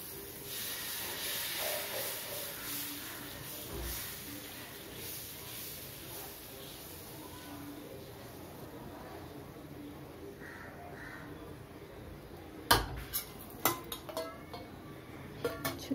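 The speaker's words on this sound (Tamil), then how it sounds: "இப்போ வந்து தோசை ஊற்றுறேன் நான்." Dosa batter poured onto a hot pan gives a soft, steady sizzling hiss that runs quietly throughout, followed near the end by a few sharp clinks of utensils against cookware.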